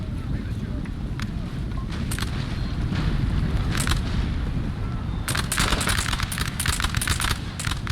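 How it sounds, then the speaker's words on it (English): An Austrian line fires muskets in Napoleon Total War 3, a dense crackle of rolling volleys that builds and turns into sharp, rapid cracks, with a voice talking over it. "About to see how this Austrian line hopefully starts to open fire soon."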